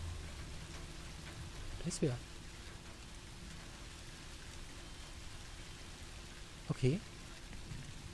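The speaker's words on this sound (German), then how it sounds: "Außerdem regnet es." Steady rain falls in the horror video game Song of Horror, a constant, even hiss in the background while someone speaks briefly twice.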